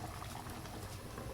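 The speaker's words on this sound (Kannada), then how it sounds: "ಚೆನ್ನಾಗಿ ಕುದೀತಾ ಇದೆ." Paneer curry bubbles and simmers in a pan on the stove, a faint, steady, crackling boil with no voices.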